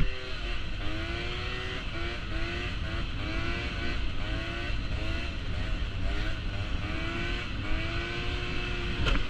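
Scooter fitted with an expansion exhaust, revving hard during a wheelie session, its buzzy two-stroke whine rising and falling in repeated swells, loud and close throughout.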